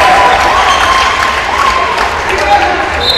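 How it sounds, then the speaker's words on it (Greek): Applause from the bench players and the crowd in the stands after a goal in a Greek football match between Panellinios and IEK Xyni Dikeas. The clapping is steady and fairly loud, with a commentator talking over it. "Σηκώνονται όλοι από το μπάγκο του Δικαία και το χειροκροτούν, καθώς και ο κόσμος στις εξέδρες"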